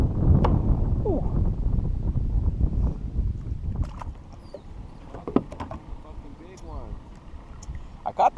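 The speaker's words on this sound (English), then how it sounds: "This wind is just too much" Strong wind buffets the microphone at a lake while fishing, a rough low rumble strongest at first and easing later, with someone talking over it and some faint splashes and clicks.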